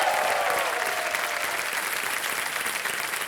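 A studio audience at a televised quiz show claps steadily for a prize-winning contestant, a dense, sustained wash of applause without pause from start to finish.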